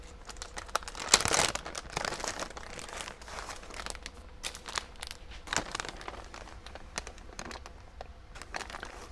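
Papier-mâché pulp mixed half and half with plaster is worked by hand, giving soft, irregular crinkling and squelching rustles with a louder crumple near the start, close up and faint.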